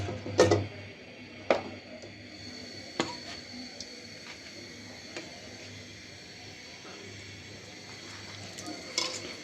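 Pabda fish frying in hot oil gives a faint, steady sizzle, broken by a few sharp clinks and taps of utensils against the pan.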